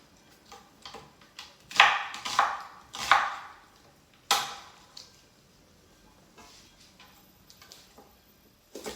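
Vegetables being coarsely chopped with a knife on a board, a few sharp, irregular close knocks clustered early, then fading to softer, sparser taps.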